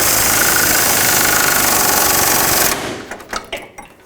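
An air impact gun tightens a control arm bolt on a 2004-2008 Acura TL, a loud continuous rattling burst for nearly three seconds, then a few short hammering bursts as it snugs down.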